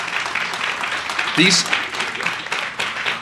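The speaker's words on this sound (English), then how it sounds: "please give them a round of applause" Steady audience applause fills a hall at a domestic violence awareness lighting ceremony, honoring victim advocates, with talking mixed into the clapping throughout.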